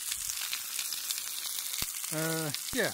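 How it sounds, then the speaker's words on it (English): Pork steaks sizzle and crackle in a hot pan, a constant hiss with a few sharp clinks and brief tonal squeaks near the end. "now we are sizzling some steaks, some pork steaks"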